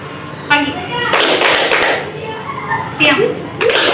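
Children clap in quick bursts during a call-and-response counting game, with a group clap mid-clip and sharper claps near the end, amid background chatter and children's voices.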